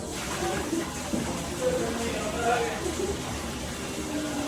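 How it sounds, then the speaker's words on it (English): Water rushes and gurgles steadily as a dishwasher tank drains, a constant wash of noise with a voice talking over it. "So what we're going to do is drain the machine fully."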